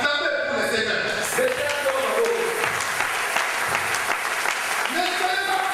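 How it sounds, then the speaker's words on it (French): A church congregation claps for the Lord in sustained, dense applause that holds steady throughout, mixed with voices in the room. "Acclamez pour le Seigneur."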